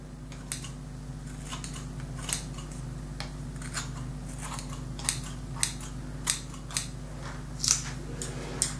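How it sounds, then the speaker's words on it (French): Scissors snipping the uneven longer strands of hair ends during a self-haircut, a series of short, crisp cuts spaced irregularly over a steady low background hum, growing slightly louder toward the end. "donc que je vais recouper."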